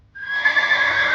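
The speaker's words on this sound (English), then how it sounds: "I am a horse. I say neigh neigh." A farm horse lets out a single sustained whinny, close and clear, with no other sound around it.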